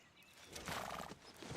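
Horse in Red Dead Redemption 2 whinnying over clip-clopping hooves, a short, fairly loud burst that builds in the middle and carries on to the end.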